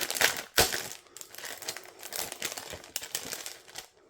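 Stiff plastic packaging crinkles and crackles as a stencil is pulled free, a close, quiet run of irregular rustling bursts with a few sharper snaps.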